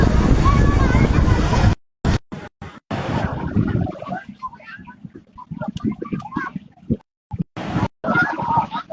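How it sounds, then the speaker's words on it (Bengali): Large sea waves surge and crash on a windy shore, with heavy wind buffeting the microphone in loud rumbling bursts while a person talks over the roar. "খুব সুন্দর ঢেউ"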